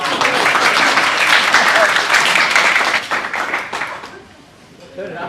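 Applause from a small gathering of family and friends at a headstone unveiling, steady and fairly close for about four seconds, then thinning out before a voice comes in at the end.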